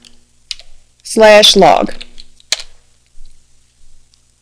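A command typed on a computer keyboard, a few sparse, crisp key clicks spaced out around a brief burst of speech, close and quiet.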